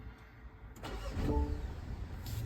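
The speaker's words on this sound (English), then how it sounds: "that's how you can start the engine if the battery ever dies" A BMW X1 engine cranks and catches after a brief quiet lead-in, settling into a steady close idle for the remaining couple of seconds.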